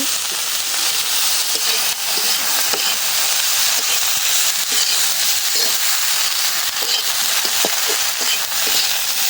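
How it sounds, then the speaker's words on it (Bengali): Mustard flowers frying in hot oil with chili and garlic, a steady loud sizzle and hiss with faint stirring clinks, no talk. "মরিচ আর রসুনটা ভাজা হয়েছে আমার, এখন সরিষা ফুলটা দিয়ে দিলাম।"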